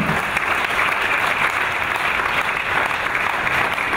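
A church congregation claps at a welcome service in Chicago, dense steady applause filling the room throughout with no break.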